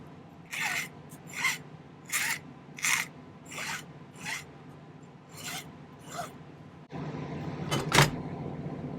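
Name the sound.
filing down a ring with a file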